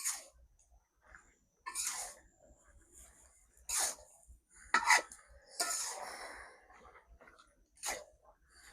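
A spatula scrapes and clinks against a pan while coriander leaves are mixed into a dry-cooked cauliflower, potato and eggplant vegetable dish, a handful of separate short strokes with quiet gaps between them.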